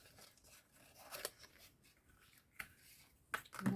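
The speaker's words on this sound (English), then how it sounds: "I'm going to fussy cut the birthday," Scissors fussy cutting around a stamped paper birthday sentiment for a handmade card, giving a few brief, quiet snips spread over a few seconds, with a louder cluster of cuts at the end and no talking.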